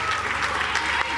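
An audience applauds with dense, steady clapping across the whole moment, loud and continuous, with no pauses.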